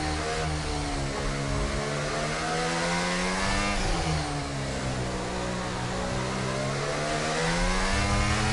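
A racing car engine in a video game during a race in England, droning loud and steady with rising and falling revs as it climbs and shifts, continuous throughout with no talk.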